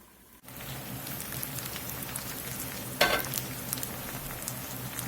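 Yellow squash frying in a covered skillet over medium heat, a steady close crackling sizzle that keeps going the whole time, with one sharper burst of spatter partway through.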